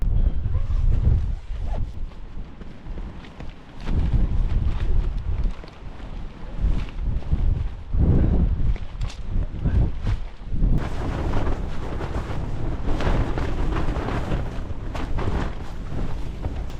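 Strong gusting wind buffets a microphone at a wild mountain camp beside a refuge hut during a storm, rising and falling in loud roaring surges with low rumble throughout.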